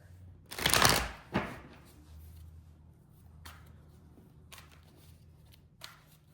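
A brief riffle of tarot cards being shuffled near the start, followed by a few soft taps and light handling noises in a quiet room.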